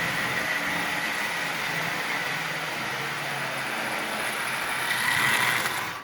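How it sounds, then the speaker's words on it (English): An old Marx wind-up toy train motor runs at half power, giving a continuous whirring, ratcheting mechanical buzz that holds steady and close, then swells briefly before cutting off, with no talk. "So as you see, this old motor runs quite well."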